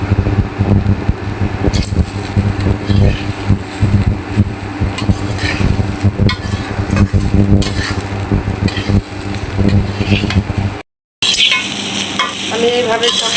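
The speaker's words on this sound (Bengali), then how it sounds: "আমি এইভাবে সব ভেজে নিব" Ingredients for mutton biryani frying in a pot, a loud continuous sizzle with constant stirring and scraping close up, then a short break before the sizzling picks up again.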